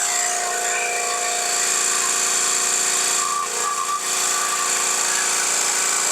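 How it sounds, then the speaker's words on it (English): An air compressor for automotive bodywork running at about 120 psi, a loud steady mechanical drone with a constant hum and a brief dip partway through. "Compressor runs 150 or 160 pounds"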